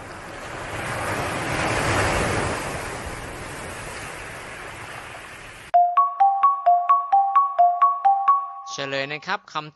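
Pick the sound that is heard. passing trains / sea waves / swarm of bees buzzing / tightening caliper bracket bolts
sea waves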